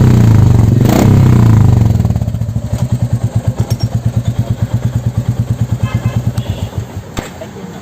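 A Royal Enfield Classic motorcycle fitted with an MW exhaust revs loudly up close, then drops into a steady, deep thumping idle with evenly spaced exhaust pulses.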